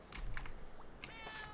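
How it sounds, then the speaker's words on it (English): A cat meows with a sad, drawn-out tone, several faint calls heard over low background noise and light tapping. "Why does Gary sound so sad when he's meowing?"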